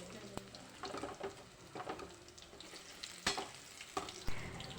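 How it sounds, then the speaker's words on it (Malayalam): Onion vada, onion fritters of batter, frying in hot oil, a soft steady sizzle with faint crackles and a few clicks of stirring, fairly quiet and continuous throughout. "ഇനി ഇത് പൊരിച്ചെടുക്കാം."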